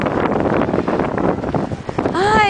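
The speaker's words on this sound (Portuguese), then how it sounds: "O vento tá demais aqui." Strong wind buffets the microphone outdoors by the water, a steady roar with gusts, and a boat is nearby; near the end a brief whistling, chirping tone rises above the wind.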